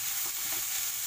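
Noodles for American chopsuey frying over a high flame, giving a steady, even hiss that fills the short stretch without pause, with no voices.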